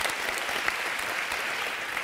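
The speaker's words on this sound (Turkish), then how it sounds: "Abimize bir büyük alkış daha alalım" A television talk-show studio audience applauds steadily, a thick even roar of clapping from many hands that holds at the same level throughout, with no voices standing out.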